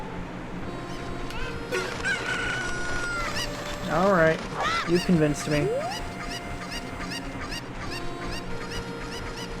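Cuckoo chickens from the game Ocarina of Time cluck repeatedly in a steady chirpy pattern throughout, with a few louder, warbling calls near the middle, while a person speaks briefly over the sounds.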